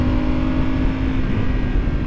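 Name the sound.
Ducati 848 EVO motorcycle exhaust, loud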